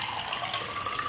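Tap water running steadily for drinking, a brief, soft, continuous rush and splash with no voices.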